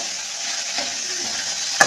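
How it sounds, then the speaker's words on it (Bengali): Potatoes fry in a pan for a vegetarian cauliflower-potato curry, making a continuous close sizzle with light stirring scrapes and a sharp utensil clink at the very end. "যে ফুলকপি ভেজে রেখেছি আর আলুটা এখন ভাজা হচ্ছে।"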